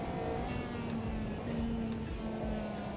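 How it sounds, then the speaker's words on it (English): Tyre scrub in the Le Mans Ultimate sim racing game: a continuous low grinding rumble with a faint whine layered over a steady car engine, constant and fairly quiet with no talk. "You can hear there's a lot of scrub sound."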